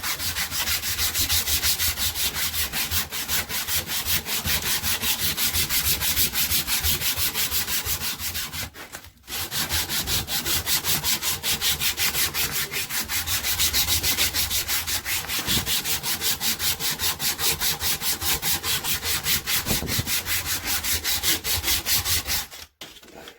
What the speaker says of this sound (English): I'm just going to carry on sanding this up